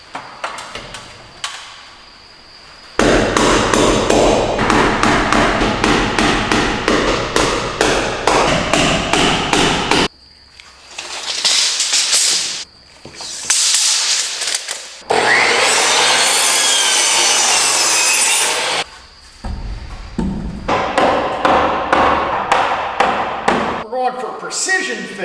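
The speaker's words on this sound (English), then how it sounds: "We line it all up and hammer this guy home." Repeated sharp hammer blows fixing joist hangers onto wooden beams in fast rhythmic bursts, loud and close, with pauses and a stretch of sawing-like rasping between them.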